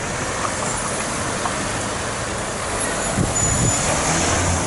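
Dense city street traffic in Rotterdam, with cars and a double-decker bus passing, forms a steady loud roar of engines and tyres, nearby and continuous, with no voices.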